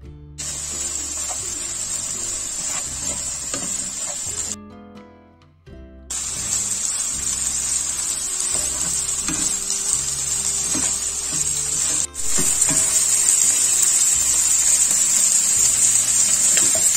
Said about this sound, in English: When they are golden, add turmeric and stir fry them.